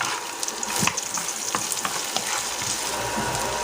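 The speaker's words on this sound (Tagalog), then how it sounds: "Gisa natin yung bawang," Garlic and onion sauté in a hot pan with a continuous close sizzle and crackle, marked by scattered sharp clicks and scrapes from stirring, with no talking.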